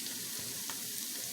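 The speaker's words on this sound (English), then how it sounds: "As soon as the onions is halfway cooked, it gets transparent in color." Onions frying in a pan for okra rice with saltfish, a steady dense sizzle that stays even and close throughout, with no voices over it.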